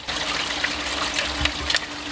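Water flows back into a filter house, a steady close trickle and gurgle with small splashing drips over a constant low hum.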